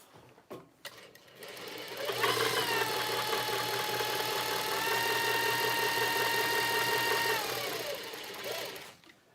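A sewing machine in need of oil runs steadily for several seconds with a rapid mechanical clatter and hum, starting after a few faint knocks and winding down at the end.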